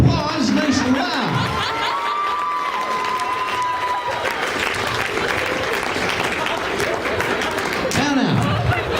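A live audience gives a loud, sustained round of applause with cheering and whoops, rolling steadily for the full stretch after a stage act, with a few voices calling out over the clapping.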